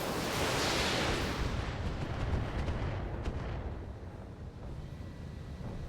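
Weapon firing in a video game, a heavy rumbling blast with a long roaring decay that fades over several seconds.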